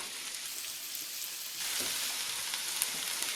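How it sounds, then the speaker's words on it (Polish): Chopped onion and leek fry in butter and olive oil in a pan, a soft crackling sizzle that grows noticeably louder partway through, close by and with no one speaking. "Jako pierwsze wrzucam cebulę i pora. I będę je podsmażać do zeszklenia."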